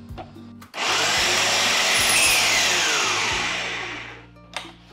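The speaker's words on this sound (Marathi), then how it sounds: "आणि हेही मिक्सरमध्ये एकत्र करून घेऊयात।" Roasted dry fruits being ground in a kitchen mixer grinder, a loud steady whirring grind that starts abruptly, holds for about three seconds, then winds down and stops.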